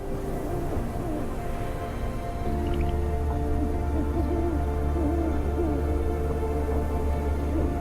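An owl hoots in the Sahara desert at night, low repeated calls carried over a steady background hum, moderately faint and unaccompanied by speech.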